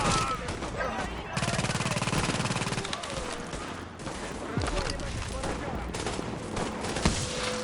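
Machine gun firing in Tom Clancy's The Division, loud sustained rapid bursts with scattered single shots over several seconds and a person speaking throughout.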